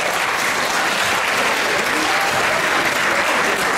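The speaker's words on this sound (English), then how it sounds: "Let's give one more round of applause to 7390 MSET Jellyfish." Crowd at an FTC robotics regional qualifier claps in a dense, even burst of applause for a team, loud and continuous with little else audible.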